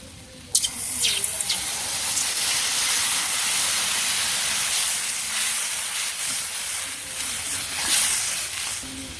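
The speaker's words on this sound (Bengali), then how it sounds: "এই পাশে যে সবজি ভালো করে কষিয়ে নিচ্ছি" Vegetable curry sautéing with spices in a pan over a village kitchen fire, giving a loud, continuous hiss and sizzle close by that swells slightly toward the end.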